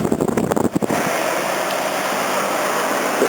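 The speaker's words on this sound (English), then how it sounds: "the fan blows out on this one" A/C condenser fan blowing out through a dirty coil: after a few knocks and handling noises early on, a steady, loud rush of air carries on unbroken to the end.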